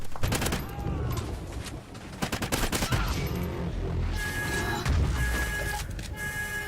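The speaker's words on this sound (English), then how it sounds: "I want to let you guys hear the KEM strike go off." A chaotic barrage of rapid gunfire and explosive blasts from a KEM strike in a Call of Duty-style game on the Overlord map, dense and continuous, with crashing impacts layered throughout.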